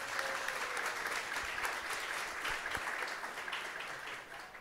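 A church congregation at a Portuguese-language service gives a round of applause, steady and dense throughout, with a faint voice underneath near the start.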